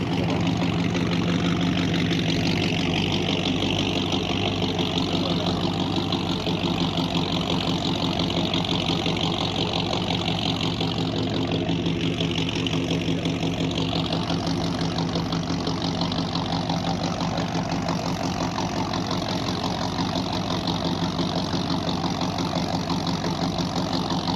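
A powerful built car engine making about 850 horsepower at the wheels idles steadily and loudly up close, a rough, throbbing rumble that holds constant throughout, at a classic car meet on an airfield.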